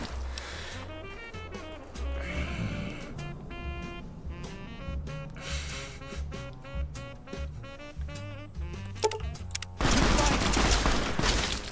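Video game explosions and rapid gunfire crackle in dense bursts, loud and close, ending in a heavy noisy blast, with faint talk underneath.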